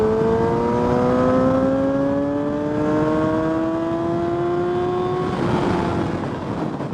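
A Yamaha YZF R6 sport motorcycle engine pulls hard toward the top of its rev range, a loud, steady rising whine that climbs continuously for several seconds before a brief shift-like break near the end.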